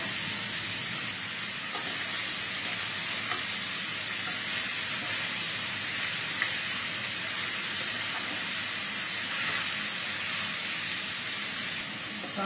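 Bitter gourd fries with salt, onion and green chili in a pan, giving a steady, loud sizzle and hiss that runs unbroken throughout, with faint occasional stirring clicks.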